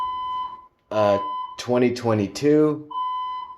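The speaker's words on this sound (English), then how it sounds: "Fire alarm went off at 11:18 this morning, Thursday, November 10th" A building fire alarm sounds a steady tone for a stretch, cuts out under a man's speech, then resumes a sustained beep at the end.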